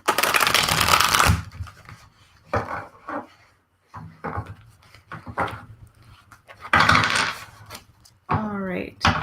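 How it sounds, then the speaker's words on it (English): Close, crisp card shuffling in a few bursts, with a voice speaking in between. "Okay, Kim, let me shuffle my cards."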